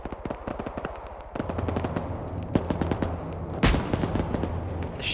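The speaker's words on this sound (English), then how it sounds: "They're shooting with the tank." Rapid bursts of tank and vehicle gunfire in a military combat video game, a dense run of sharp repeated shots with a heavier boom near the end, all loud and continuous.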